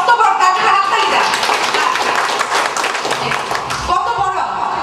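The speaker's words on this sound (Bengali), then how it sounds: "তার জন্য হাততালি দেন।" An audience at a Punak gathering in Barisal breaks into applause, a dense, continuous patter of many hands clapping at once that stays loud for several seconds, with a voice speaking over it.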